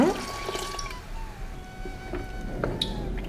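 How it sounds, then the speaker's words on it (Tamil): Water is poured into a mixer jar to rinse it, producing a brief splashing, trickling pour with small drips and clinks, close and fairly loud. "இப்போ இதில் மிக்சி ஜாரை சேர்த்து அலசி தண்ணி ஊற்றிக்கலாங்க"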